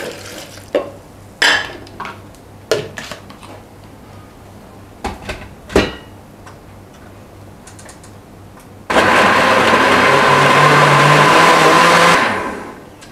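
A few clatters and knocks, then a kitchen blender switches on and whirs loudly and steadily for about three seconds, blending ingredients with water, before stopping.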